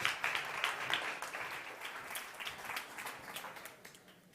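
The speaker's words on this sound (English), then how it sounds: "Big applause for Tiago." Audience applause at a startup competition pitch event, a dense steady wash of clapping from a crowd that gradually thins toward the end.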